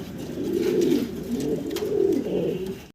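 Pigeons coo at a pigeon farm in a steady, overlapping chorus of low burbling calls, close and fairly loud, continuing without pause and with no talking.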